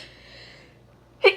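A single sharp, close sneeze bursts out near the end of a quiet stretch, brief and loud against faint background hiss.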